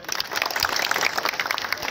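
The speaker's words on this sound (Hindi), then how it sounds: "एक बार जोर से हाथ ताली बजाए के लगी" Crowd at an Adivasi rally in Sonari town, Charaideo, clapping hands together in loud, dense applause that holds steady and close throughout.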